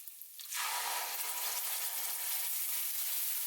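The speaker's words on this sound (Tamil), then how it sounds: "சேர்த்துட்டு நம்ம அரைச்சி வச்சிருக்க சட்னியும் சேர்த்துடலாம்." Ground onion chutney hits a hot pan of tempering with chilies and curry leaves, bursting into a loud, steady hiss of sizzling that continues close up without talk.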